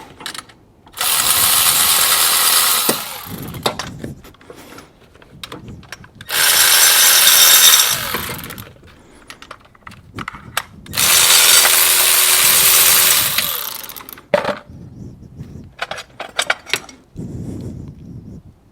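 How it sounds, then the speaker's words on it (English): A breaker bar loosens bracket bolts on a GM Ecotec 1.4L engine during water pump work, with three loud sustained bursts of grinding, ratcheting tool noise separated by quieter clicks and handling sounds. "I'm going to get in here with a breaker bar, break the torque just like we did these other ones"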